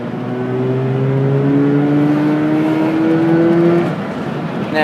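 A Mazda RX-8's rotary engine is revved with the throttle, its smooth steady whine climbing slowly in pitch as it is held loud and close for several seconds, alone with no talk.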